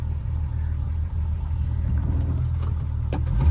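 A fifty-year-old classic car engine running, a low steady rumble close by with a slight rise in loudness toward the end and no speech over it.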